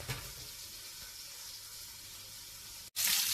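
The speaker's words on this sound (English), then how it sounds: "While chicken is frying in the pan" Steady sizzling of chicken frying in a skillet, a constant crackling hiss close by, ending with a brief pause and a louder burst.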